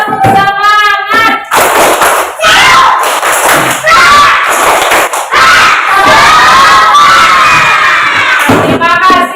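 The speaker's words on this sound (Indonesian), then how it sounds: "Berdiri semuanya. Ya, 1, 2, 3. Tepuk semangat." A class of children stands and performs a spirit clap, with rhythmic hand claps and thumps mixed with loud excited shouting and cheering from the whole group, close and energetic throughout.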